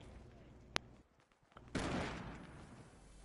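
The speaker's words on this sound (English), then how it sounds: "I'm getting sniped at." Sniper fire in an online shooter game: a sharp distant crack, then a brief lull and a louder rolling report that fades out over a steady low background.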